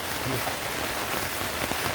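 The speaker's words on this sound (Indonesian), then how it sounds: "tiba-tiba kayak gini, hujannya deras banget." Heavy rain pours down at a mountain campground after fog and drizzle, a dense, even hiss of drops drumming on surfaces, loud and close with no break.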